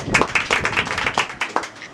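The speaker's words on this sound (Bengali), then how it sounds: "তার জন্য একটা হাততালি হবে" A small group claps for a first-place winner: a quick burst of irregular, sharp hand claps, close and fairly loud, running for about two seconds with no talk over it.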